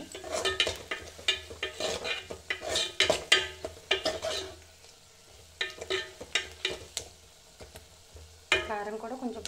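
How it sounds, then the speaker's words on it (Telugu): A spoon stirs chili powder around a frying pan on the stove, giving repeated scraping strokes over a soft sizzle. The stirring comes in close bursts with a short pause partway through. "కారం కూడా కొంచెం పచ్చివాసన పోయే వరకు అటు ఇటు కలుపుకుంటూ ఉంటే సరిపోతుంది."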